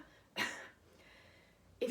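Two short, quiet coughs, one near the start and another at the end, with soft room hush between them.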